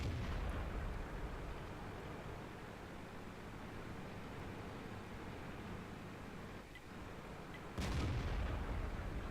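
Tank cannon fire in a video game involving an IS-3 tank sits inside a dense, steady roar of battle noise. One sharp shot rings out near the start and a louder blast comes late, with no voices.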